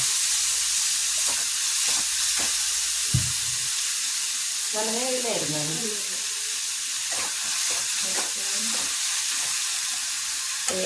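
Small onions fry in oil in a pan while hair oil is being made, giving a steady hiss and sizzle with occasional stirring clatter, under a woman's brief speech.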